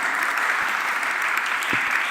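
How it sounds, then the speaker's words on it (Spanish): An audience applauds at the close of a conference panel, a brief, steady roar of many hands clapping, dense and even throughout. "Un aplauso, por favor."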